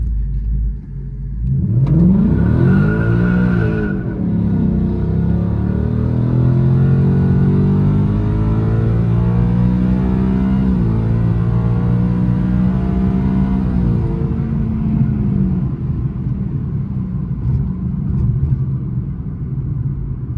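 A Ford Mustang S650 engine, Lund tuned, revs up sharply and then roars steadily as the car launches and accelerates away on a back road, loud and close, with no talking.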